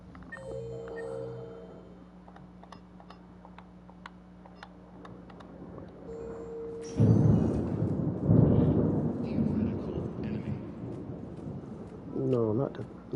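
Thunder rolls through in Mass Effect 3, a loud, deep rumble that swells in about halfway and lingers with crackling layers over background game sounds.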